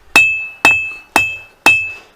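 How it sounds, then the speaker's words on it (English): A three-pound hammer strikes hot metal during forging of woodworking hold-down tools. Four loud, evenly spaced blows ring out close by, each with a sharp metallic clang and a brief ringing decay. "It's a lot easier for me to use this hammer for some reason."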